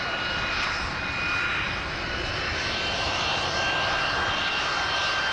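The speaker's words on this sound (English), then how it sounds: "the Harrier GR3" A Harrier GR3 jet roars steadily overhead at an airshow, a loud continuous engine drone with a whining tone that holds throughout.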